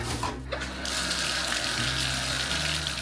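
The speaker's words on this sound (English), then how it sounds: "Now the bathtub will fill up and drain as bathtubs are supposed to do." Water from a tap pours into a bathtub after a drain lever repair, a steady close rushing splash with a low hum beneath and no talking.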